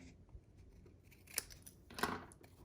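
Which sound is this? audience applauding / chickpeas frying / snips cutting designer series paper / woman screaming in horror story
snips cutting designer series paper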